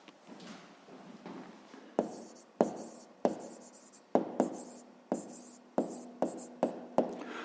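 Pen writing on paper during a fifth-grade math exercise, close and fairly quiet, with soft scratching strokes broken by sharp taps as the pen lands repeatedly, no talking.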